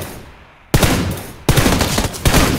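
Gunfire in the battle royale game PUBG Lite: after a quiet lead-in, two loud bursts of rapid shots hit abruptly and sustain as dense fusillade, heard alone with no talk.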